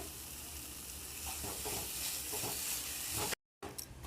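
Banana sandesh batter is stirred with ghee in a pan, making a soft continuous sizzle and scraping that runs steadily, then cuts out for a moment before resuming.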